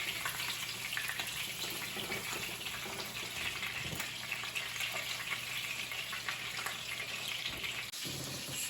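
Fish fillets frying in hot oil in a pan for fish and chips, a steady dense sizzle and crackle that carries on without a break, fairly close and alone.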